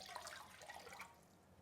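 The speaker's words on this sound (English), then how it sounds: "I'm gonna pour some water in." Water is poured into a Jetboil MiniMo cooking pot outdoors, a soft, continuous splashing trickle that is faint and steady for over a second without talk.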